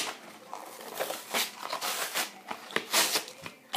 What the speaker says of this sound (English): I feel so bad for ripping off all the packaging